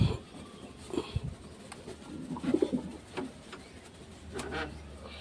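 Pet pigeons sitting on eggs coo in soft, low, throaty bursts, several close calls spaced irregularly over quiet background rustle.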